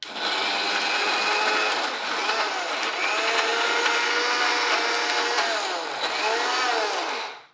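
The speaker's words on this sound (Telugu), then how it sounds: "పచ్చడి మెత్తగా రుబ్బేసుకున్నాము. మిక్సీలోంచి తీసేయండి." A kitchen mixer grinder grinds an Andhra-style black gram (minumulu) chutney with water, a loud, steady whirring motor that dips in pitch now and then for about seven seconds before cutting off abruptly.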